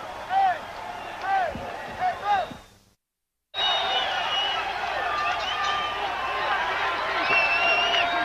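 Boxing arena crowd roars and cheers steadily at the end of round six, a broad wash of noise under commentators' voices, cut off briefly by a short silence before the roar returns.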